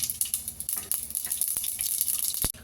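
Crackling sizzle of mustard seeds spitting in hot oil, close and busy, with occasional sharper pops and a brief clatter near the end.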